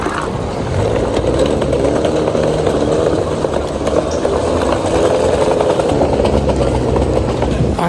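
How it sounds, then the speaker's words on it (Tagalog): Suitcase wheels rolling over pavement at an airport, a loud, continuous rumbling drone close by that sounds like an idling jeep engine. "Parang jeep yung tunog ng aking maleta."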